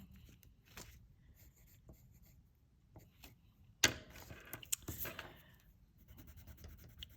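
Colored pencil pressed hard while shading reflected light on a sphere drawn on paper: soft, close scratchy strokes in short irregular bursts, with a few sharper taps, all quiet and with no talking.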